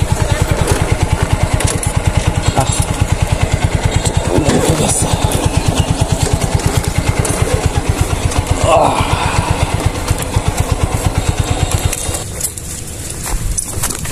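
A motorcycle engine putters with a steady rapid thumping, loud and close, while being parked, then cuts out near the end; people talk over it.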